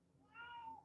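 A cat gives a single drawn-out meow, faint and fairly close, rising then falling over quiet background hiss.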